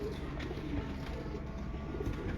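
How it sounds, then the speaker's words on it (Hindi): Pigeons from a breeder's main bloodline, kept in a loft, give low, steady cooing that runs without a break, close by and moderately loud. "चौधरी ज़हीर साहब, वो सब बहुत ही शानदार कबूतर माशाल्लाह"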